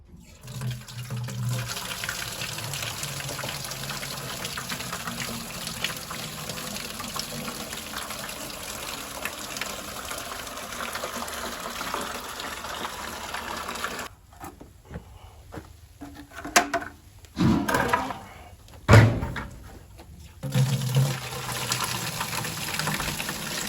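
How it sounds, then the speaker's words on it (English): Water drains from an outdoor wood boiler into a bucket, a steady pouring gush that runs for most of the clip and then breaks into choppy splashing spurts near the end. "we'll just drain out some water and take a look and see how it looks"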